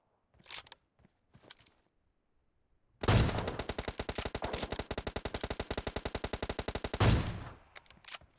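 Long sustained burst of automatic gunfire in PUBG Mobile, loud and rapid for about four seconds, framed by brief faint sounds before and after.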